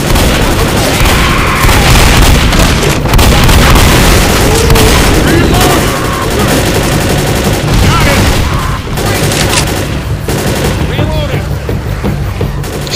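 Heavy gunfire fills a Left 4 Dead survival fight at a boathouse: loud, continuous bursts and booming shots overlap with no pause, with faint voices mixed in.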